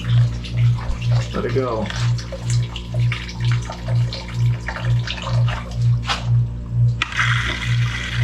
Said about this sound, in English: It's like the faucet turning on.